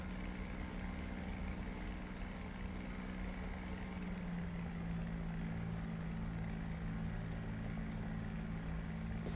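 Westland Wyvern propeller aircraft flying in a video game, a steady droning engine hum that holds at a constant level for the whole stretch, with a slight pitch shift midway.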